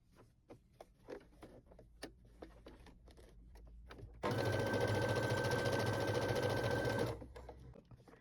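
A sewing machine stitches a plushie paw seam. A few soft clicks and taps come first, then a loud, close, steady mechanical whir runs for about three seconds before stopping.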